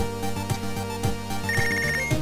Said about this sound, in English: Oh, not the bloody phone again.